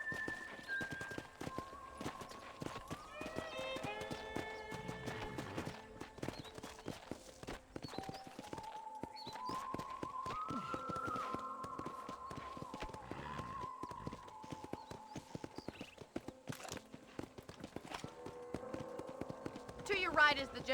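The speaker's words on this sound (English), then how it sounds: "let's see if you can still ride a horse." Steady clip-clop of horse hooves in Red Dead Redemption, with game sound effects and background music, a brief whinny near the end.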